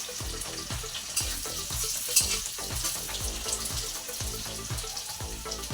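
Meat sizzles and fries in a pan, with a continuous hissing crackle and a regular series of sharp scraping or stirring knocks throughout, and no talking.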